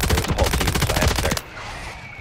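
Rapid automatic gunfire in the Call of Duty video game, a dense burst of close, loud shots fired in quick succession for over a second before cutting off, leaving quieter game ambience.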